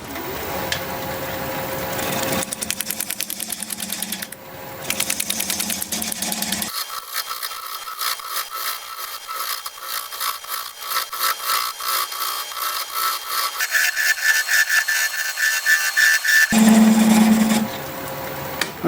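Scrap apple wood turns on a lathe under a gouge, giving a steady whirring, rasping cut that changes in tone across several passes, near and loud, with no talking.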